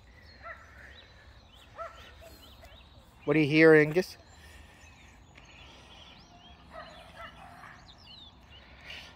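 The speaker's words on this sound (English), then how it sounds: "A little dog barking up the way" A small dog barks in the distance near a creek-side picnic area, one short burst of yips rising briefly above the ambient outdoor noise while a person speaks quietly nearby.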